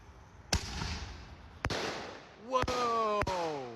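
Fourth of July fireworks and firecrackers go off in sharp, loud, close bangs, four in under four seconds, between stretches of crackling and a rising whistle, with excited voices around them.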